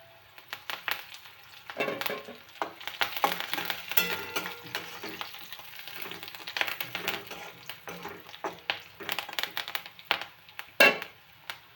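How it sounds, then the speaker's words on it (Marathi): Curry leaves hit browned onions frying in a pan for a matki dry curry and set off a crackling sizzle, with bursts of spattering and stirring scrapes heard up close. "तर आता आपण त्यात टाकून घेऊयात कढीपत्ता."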